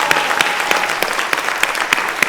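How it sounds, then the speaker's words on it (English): A late-night show audience claps in steady, dense applause, loud and close, with sharper individual claps popping out over the wash and no voices on top. "How about give a round of applause for these late night boomers?"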